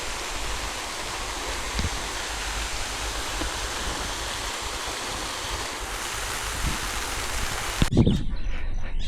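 Steady outdoor rain makes a broad, continuous hiss close to the microphone, with wind buffeting and a few louder knocks and bumps near the end.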